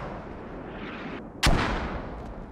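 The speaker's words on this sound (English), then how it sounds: "I was trying to find where the mortars land" A mortar shell lands with one sharp, loud blast in the Squad war game, cutting through steady battlefield noise and leaving a rumbling tail.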